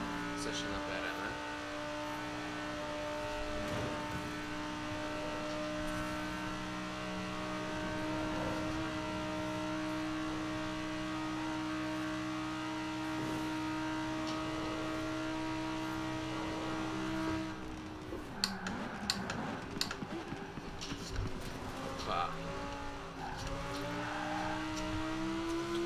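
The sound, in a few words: Audi R8 5.2 TFSI accelerating in Forza Horizon 4 video game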